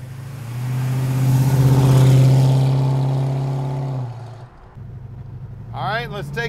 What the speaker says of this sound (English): Let's take this Challenger for a ride.